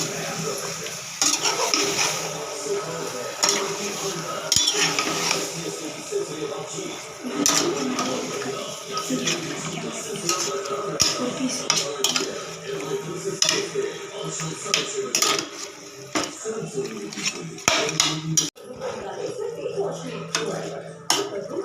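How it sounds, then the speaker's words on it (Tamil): Mutton curry with tomatoes being stirred in a pot, repeated scraping and clinking of a spoon against metal with light sizzling, under intermittent talking throughout. "அந்த தக்காளியும் மட்டனும் நல்லா கிளறணும்"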